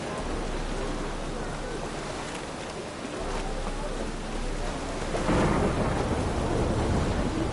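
Steady rain and rolling thunder from a storm in the video game The Witcher 3, a continuous downpour with deep rumbles that swell louder toward the end, with no voices over it.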